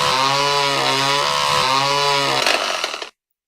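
A chainsaw sound effect from a screen prank program, a loud, steady buzzing drone with a slight wobble in pitch that runs continuously, then cuts off abruptly into silence.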